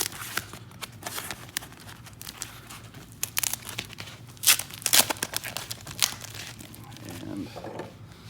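Polypropylene sheeting foam boffer (speed bat) being cut apart by hand, giving irregular crinkling, tearing and crunching bursts that cluster and grow louder midway, with faint background sound throughout.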